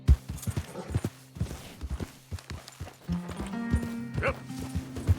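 Horse hooves clip-clop at a steady trot in the video game Red Dead Redemption 2, close and rhythmic, with a brief whinny and some background game sound.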